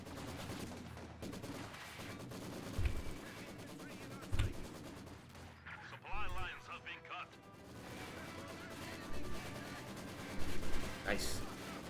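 Maxim machine gun fire in the Company of Heroes 2 strategy game: short, punchy bursts of automatic fire at moderate distance, mixed with rumbling battle effects and other game sounds.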